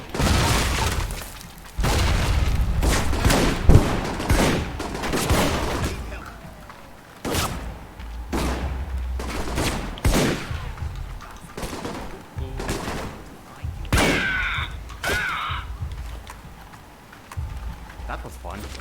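Heavy machine-gun fire from death cannons in the video game Alpha Protocol rattles out in sharp, loud bursts with short gaps between volleys, while a voice talks over and between the shooting.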